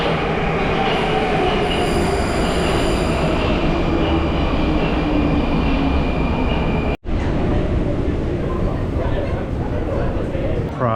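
A Prague metro train runs loud and close, its wheels squealing in sustained high tones over a dense rumble of rail noise, with one brief dropout partway through before the screech and roar resume.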